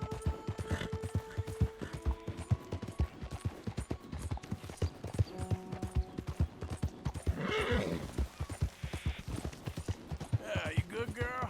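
Horse in Red Dead Redemption 2 clip-clopping in a steady rhythm of close hoofbeats, with whinnying neighs breaking in near the end while a voice speaks over the game.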